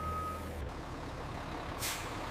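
A truck at a sawmill loading yard backing up: a brief steady reversing beep tone fades out, then a sharp hiss of air brakes releases near the end over constant low engine rumble.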